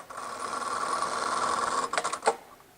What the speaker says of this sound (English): We're going to do it with one of our fancy automatic machines.